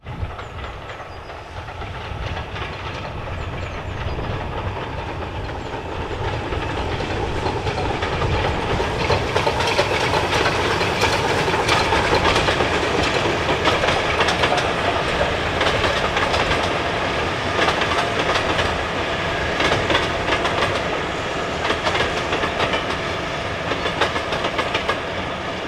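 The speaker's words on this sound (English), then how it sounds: "getting a shot of a train going across that bridge there, delightful brick bridge carrying the Severn Valley Railway" A train on the Severn Valley Railway rolls across a brick bridge during a spring gala, a steady rumble with clickety-clack of wagons and faint hiss that swells and holds, heard from a distance with no talk.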